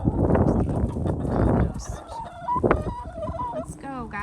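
Backyard homestead chickens cluck and chatter as they come running into their coop at bedtime, a busy close flock with a few sharper calls near the end, heard alongside a person speaking.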